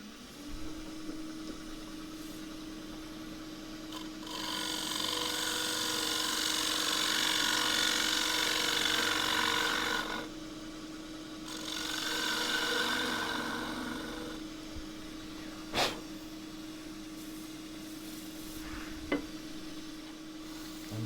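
A gouge cuts spalted wood turning on a lathe, giving a broad rough hiss that swells for several seconds, pauses, then returns over the steady motor hum, with a couple of sharp knocks near the end.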